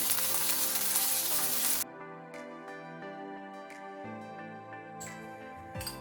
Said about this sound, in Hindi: अभी इसको मीडियम फ्लेम में 2 से 3 मिनट तक फ्राई करेंगे